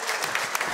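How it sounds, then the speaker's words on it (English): A studio audience at a political TV show claps for a party leader, a short burst of dense, bright applause, loud and steady, with a faint voice underneath. "A big round of applause for United Future leader Peter Dunne"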